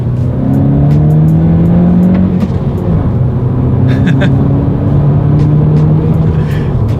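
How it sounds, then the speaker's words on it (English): A 2019 Honda Civic Si accelerates hard through the gears from second, its engine droning loudly from inside the cabin and rising in pitch, dipping at each shift and climbing again, with a voice talking over it. "let's see how quickly we can get this new 2019 Honda Civic Si here up to speed"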